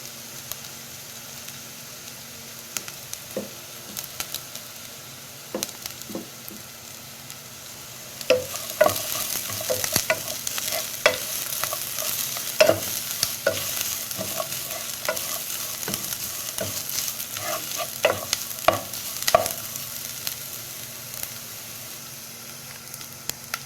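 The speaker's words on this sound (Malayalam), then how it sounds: "നമ്മൾ അരിഞ്ഞ് വെച്ചതിൻ്റെ പകുതി ചെറിയുള്ളി ചേർത്തിട്ടൊന്ന് ചെറുതായിട്ടൊന്ന് വഴറ്റിയെടുക്കാം" Sliced shallots sauté in a pan for a fish curry in coconut milk, a soft sizzle with scattered spoon taps that turns louder and busier midway, with frequent scraping and clinks of stirring, close and without talk.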